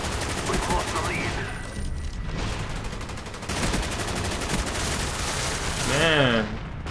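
Light machine gun fire in a video game deathmatch, a sustained rattle of rapid shots with dense layered gunfire, and a brief voice-like chirp near the end.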